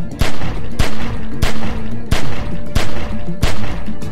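Sustained gunfire at a window in The Walking Dead: 400 Days, with regular loud shots about every two-thirds of a second over a dense, roaring background of battle noise, close and intense.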